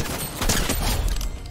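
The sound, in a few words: gunshots in a video game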